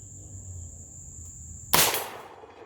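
A single sharp rifle shot fired at a carbon steel target during a penetration test on an outdoor range, a sudden loud crack with a short decaying tail after a quiet stretch with a steady high-pitched whine.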